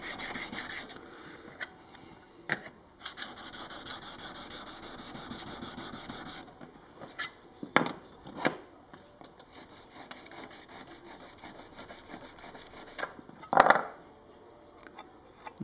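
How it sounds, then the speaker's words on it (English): A tool edge is rubbed and honed with steady, faint back-and-forth rasping strokes, broken by a few brief louder scrapes and taps, heard close and alone, in a guitar-building workshop. "we go back to sharpening the edge one more time"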